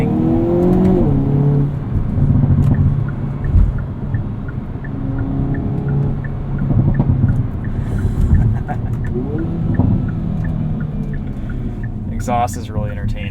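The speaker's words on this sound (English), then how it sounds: "Exhaust is really entertaining in a car like this." The engine and exhaust of a 2022 Hyundai Kona N rise loudly in pitch under acceleration, with surging revs and brief breaks between gears, heard from inside the car.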